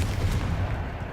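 A short, forceful Confringo fire blast in Hogwarts Legacy, a dense booming burst with heavy low rumble filling the whole moment.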